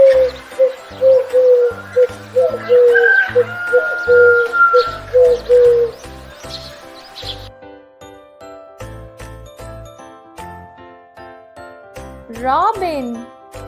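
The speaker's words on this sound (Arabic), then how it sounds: "pigeon," Pigeon cooing, heard as short repeated low coos in a loud birdsong recording that also carries other calls and chirps, with no talking over it.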